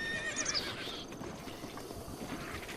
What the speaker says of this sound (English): Okay, let's whistle my horse.